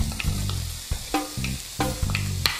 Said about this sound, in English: First I'm going to add the onions.